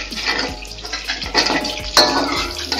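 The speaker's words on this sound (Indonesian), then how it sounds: "Ini sebenarnya tambah air" Water poured into a pan while stir-frying squid with black ink, splashing and sizzling in uneven bursts with a few clinks of utensils against the pan, close and fairly loud.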